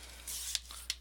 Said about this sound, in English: And so I'm going to cut my paper